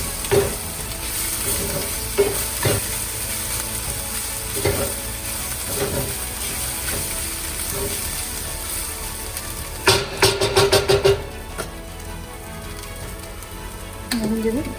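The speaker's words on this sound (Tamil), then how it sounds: "முட்டை வேகும் வரை நல்லா வதக்கணும்." Cabbage and egg being sautéed in a pan for a Tamil-style cabbage egg podimas, a steady sizzle broken by spoon scrapes and stirring clatter, with a louder burst of rapid scraping near the end; no talking.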